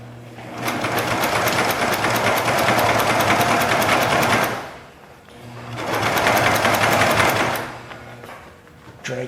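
Upholstery sewing machine stitching vinyl over wood for a 1959 GMC Apache Fleetside truck, running in two long steady bursts of rapid needle chatter with a short pause between, close and loud.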